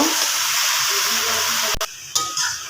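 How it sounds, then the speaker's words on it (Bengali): Malabar spinach being stirred into sautéed shrimp in a hot pan gives a steady close sizzle with scraping stirs, then a sharp clank and a couple of louder knocks near the end. "পুঁই শাকগুলো দিয়ে দিব শাকগুলো দিয়ে এখন ভালো করে নাড়া দিয়ে দিব"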